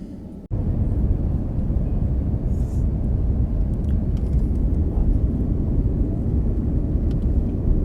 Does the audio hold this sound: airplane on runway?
yes